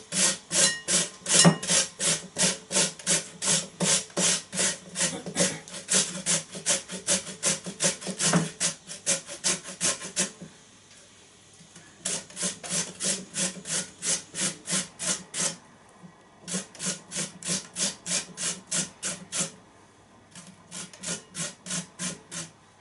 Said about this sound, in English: once you've got your potatoes peeled, the next stage is use a grater